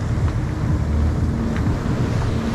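Jet ski ride on the open sea, with a steady close engine drone and wash of water and wind buffeting throughout, no voices.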